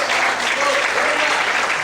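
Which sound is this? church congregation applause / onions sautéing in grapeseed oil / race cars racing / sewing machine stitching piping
church congregation applause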